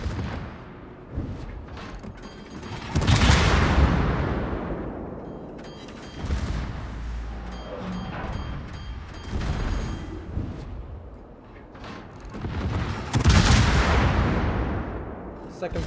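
Battleship artillery salvos in a naval video game, heavy booming volleys that roll out and decay, several big blasts spaced across the stretch amid rumbling battle noise, with someone talking throughout.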